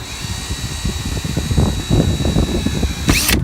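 A power drill set low drives screws into the aluminum roof of a vintage trailer, whirring in short uneven bursts up close and then ending with a loud, sharp screech.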